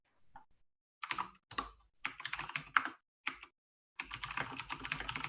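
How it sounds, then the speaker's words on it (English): A computer keyboard is typed on in quiet, irregular bursts of clicky keystrokes, some short and one longer run at the end, close and alone with silent gaps between. "Delightful keyboard sound."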